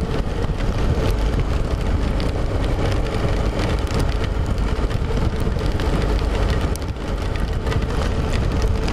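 Steadily intensifying rain during a motorcycle trip near Nyrob, where the asphalt ends, a constant close, loud wash of rain and wind noise with traffic-like rumble underneath and no talking.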